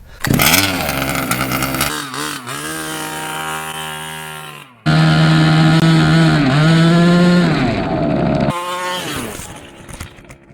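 A gas-powered RC monster truck engine sputters to life with the choke on in cold weather, buzzing loudly, cutting out, then restarting and revving in high-pitched bursts that rise and fall, alone without talk.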